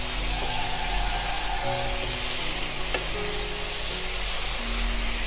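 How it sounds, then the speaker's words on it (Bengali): Boiled cabbage sautéing with spices in a pan gives a steady, close sizzle and frying hiss with occasional stirring scrapes, no talk. "এবারে ভালোভাবে একটু বাঁধাকপির সঙ্গে মশলা মিশিয়ে নিচ্ছি।"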